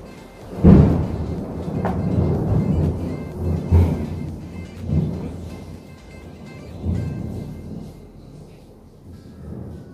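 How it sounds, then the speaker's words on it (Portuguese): Thunder during a rainstorm, with a loud crack near the start, then a deep, rolling rumble that swells and fades over a steady wash of rain. "Eu tô gravando em meio a trovão, raio."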